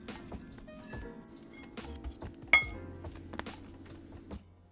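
Flour, baking soda and salt stirred together in a bowl for cookie dough, with irregular light clinks and taps of a utensil against the bowl and quiet scraping between strikes.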